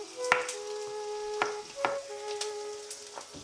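Three medium finely chopped onions frying in hot oil for prawn pepper masala, a soft sizzle broken by sharp spoon-stirring clinks against the pan, close and fairly quiet, no voices.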